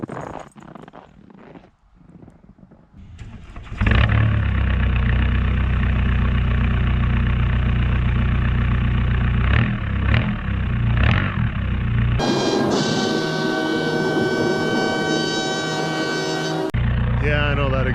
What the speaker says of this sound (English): Might as well do a cold start for you guys.